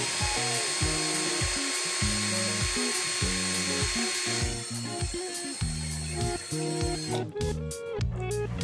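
A Ryu RCD12V cordless drill spins at its second speed setting, a steady high motor whine held close and loud with a shifting tonal hum beneath it, briefly changing pitch near the end.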